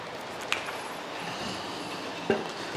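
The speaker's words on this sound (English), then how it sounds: "wait for the train to go by." A model railway train runs along its track, a steady rolling rumble with a few sharp clicks and clacks over the rail joints, fairly close and alone without talk.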